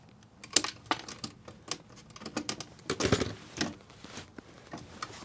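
Wire cutters snipping through an RV neutral wire, among 12- and 14-gauge leads pulled from a melted connection, give a run of sharp close clicks and snaps at an uneven pace.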